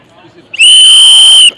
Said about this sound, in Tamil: விசில்.